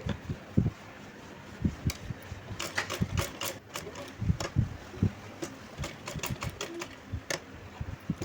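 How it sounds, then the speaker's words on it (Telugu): A sewing machine stitches a cut work blouse neck design in short, stop-start bursts of rapid mechanical whirring and clicking, close and moderately loud, with brief pauses between runs as the fabric is turned. "ఈ విధంగా మనం పాదం ఎత్తుతూ తిప్పుకుంటూ స్టిచ్ చేసుకుంటూ రావాలండి"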